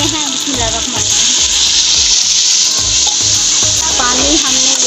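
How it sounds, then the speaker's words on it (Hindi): Water from a half-kilo container poured into a mutton curry in a cooking pot, a steady loud rushing splash with sizzling underneath, continuous throughout. "ये आधा किलो का डिब्बा है पानी का, ये हम इसमें ऐड करते हैं।"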